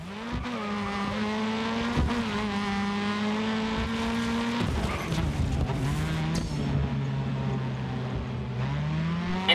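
Race car engines in Grid Autosport roar steadily and loudly throughout, with rising and falling revs, gear shifts and a brief tire skid near the middle, no voices.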